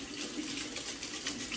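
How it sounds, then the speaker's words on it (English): Hot water runs from a tap into a pitcher in a home kitchen, a steady close hissing splash that continues without pause and with no talking. "So I'm gonna put some more hot water in here."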